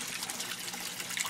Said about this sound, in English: once this water gets to the top of this, it'll start pouring down in there